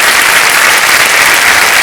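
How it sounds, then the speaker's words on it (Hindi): A studio audience at Kaun Banega Crorepati claps loudly and continuously, a dense, even wash of applause for a contestant's 50 lakh win, with no break throughout. "तालियां बज जाए उनके लिए।"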